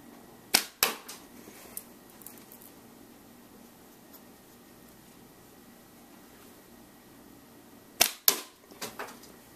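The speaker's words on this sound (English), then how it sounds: "Chief AJ slingshot, 3/8 ammo, and I do have protection behind there" A Chief AJ slingshot fires 3/8 ammo at a water bottle about 33 feet away indoors, two sharp snapping shots each followed quickly by a hit, the pair repeated later with a quiet room in between.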